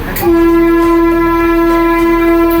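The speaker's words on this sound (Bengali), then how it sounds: "স্টেশন থেকে ছেড়ে দিল আমাদের ট্রেন" A Vande Bharat sleeper train pulls out of a station, its steady tonal hum and sustained horn-like drone ringing loud and close over low rolling rumble.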